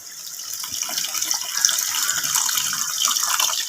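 Dissolved tamarind water poured into simmering kunukku kuzhambu in a pan, giving a steady, close splashing and gushing pour that lasts the whole stretch without pause.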